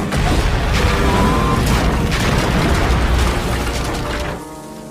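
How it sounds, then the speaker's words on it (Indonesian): Powerful explosion sound effect at a hut on a remote island, a loud sustained roaring blast with crackling debris that rumbles for several seconds and then drops to a softer tail. "inilah yang terjadi yaitu ledakan yang dahsyat"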